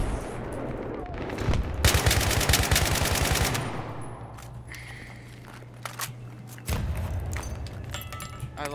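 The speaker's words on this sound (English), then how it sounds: "That's a grenade." Battlefield 3 multiplayer combat with a loud burst of rapid gunfire and a grenade blast among other weapon bangs, dense and close, followed by quieter clatter and a renewed loud burst near the end.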